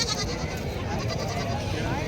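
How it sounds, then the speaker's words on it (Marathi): Goats bleating at a busy weekly goat market in Vasmat, Hingoli, with large farmer-raised goats present, a wavering bleat rising over dense crowd chatter and background noise. "शेतकऱ्याचे पण खूप मोठ्या मापाची बकरी या ठिकाणी आलेले आहेत"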